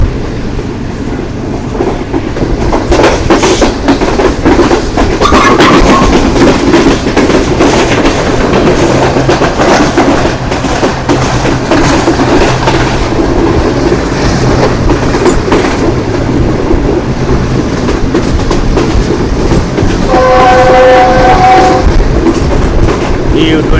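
A loud Green Line express train rushes past at speed near a station on the Rawalpindi to Lahore line, with rhythmic clattering wheels and roaring noise, then a long horn blast near the end.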